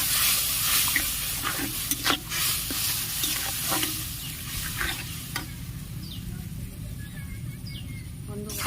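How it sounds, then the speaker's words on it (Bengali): Spiced masala for a Bengali steamed egg curry with potatoes is stir-fried in a pan with a little water, giving a loud, steady sizzle broken by repeated scraping strokes of the spatula, with faint bird chirps in the background. "অল্প করে একটু জল একটু কষে নেব"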